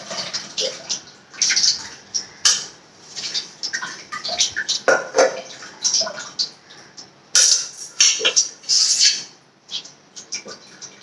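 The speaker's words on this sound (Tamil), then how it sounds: "புளி கரைச்சாச்சு" Wet squelching and splashing as tamarind is squeezed and dissolved by hand in a bowl of water, steady and close with irregular bursts of sloshing.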